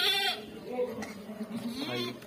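A goat bleats on a goat farm, a couple of wavering nasal calls at moderate distance, heard under steady nearby conversation and background farm noise.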